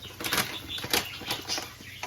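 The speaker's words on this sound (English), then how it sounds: "Sorry for the birds, they get excited whenever I do a video." Quick bursts of wings fluttering and flapping close by, several rapid beats in succession over a soft background hum.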